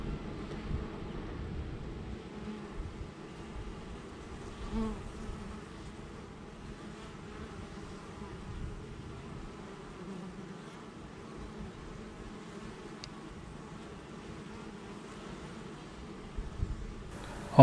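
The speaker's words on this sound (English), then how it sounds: "All the bees in this colony are very dark colored, so she's not easy to find." A tightly packed honeybee colony of very dark bees, hive opened with frames lifted, hums with a steady low buzz throughout, close and continuous with a faint wind rumble.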